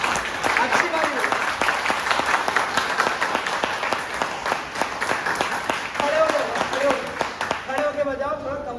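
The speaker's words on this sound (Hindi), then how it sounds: "सबसे पहले तो ताली बजाओ" A training-session audience claps together at a business workshop, a dense burst of many hands that runs steadily for several seconds, then thins out as a voice speaks over the last moments.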